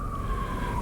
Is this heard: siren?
yes